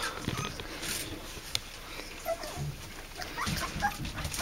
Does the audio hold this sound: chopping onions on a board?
no